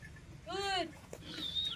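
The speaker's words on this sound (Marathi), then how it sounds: "तर शेळ्या अशा पद्धतीने खाऊ राहिल्यात." Goats in a shed eating almond leaves: a clear bleat near the start, followed by a higher call, fairly close and moderately loud over quiet background.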